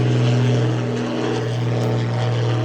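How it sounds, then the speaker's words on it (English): An airplane passes overhead near an airport. Its loud, steady engine drone and propeller hum fill the whole stretch with a strong low tone and do not fade. "There's a plane going over."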